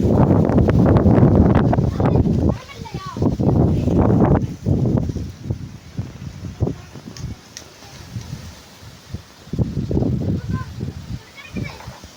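Strong wind buffets the microphone in heavy gusts around a house and coconut trees, rustling loudly, while a person talks intermittently over it.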